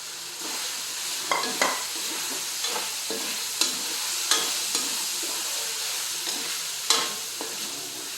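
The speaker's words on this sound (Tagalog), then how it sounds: "Iulog ko na itong kamatis." Tomatoes frying and being stirred with bottle gourd in a pan: a steady sizzle runs throughout, broken by sharp scrapes and clacks of the utensil at irregular intervals, close up, with no talking.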